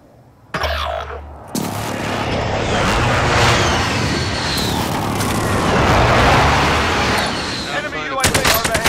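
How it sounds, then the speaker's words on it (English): Heavy barrage of precision airstrike explosions in a video game, a continuous roar of booms and rumbling blasts that kicks in abruptly and sustains loudly for several seconds before cutting off, with a few sharp gunshot-like pops at the end. "Be advised, friendly precision airstrike inbound."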